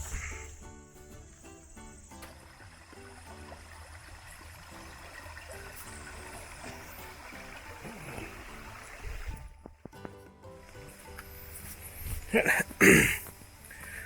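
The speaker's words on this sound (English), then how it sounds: "So, tiny little creek crossing there. Nice little sound to it." A tiny creek at a trail crossing in a state recreation area trickles steadily in the background, faint and continuous, with talk and some handling noise over it toward the end.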